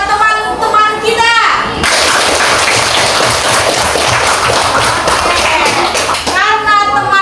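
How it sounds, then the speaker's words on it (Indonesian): Schoolchildren in a classroom break into loud, sustained clapping for their classmates, with young voices chattering before and after the burst of applause. "Beri aplaus buat teman-teman kita."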